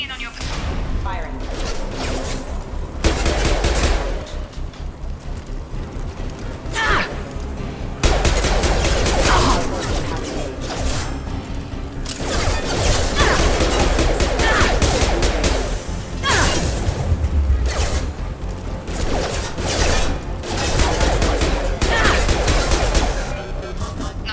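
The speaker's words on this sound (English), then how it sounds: "Shepard, security mechs are closing in on your... Firing." Sustained gunfire from security mechs in Mass Effect 2, dense loud volleys and bangs running throughout with short breaks, overlaid by radio voices talking.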